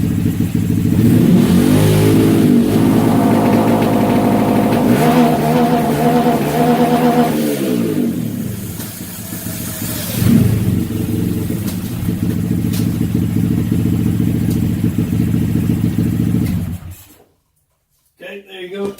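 A Honda Grom motorcycle fitted with a Dynojet Power Commander, quick shifter and two-step launch control revs hard and steadily, loud and close, with rising pitch sweeps through the gears, then cuts off abruptly into near silence.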